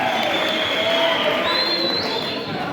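Students at Semeta Boys High School in Kisii raise a sustained crowd noise of cheering and clapping, a steady dense roar that runs throughout without breaks.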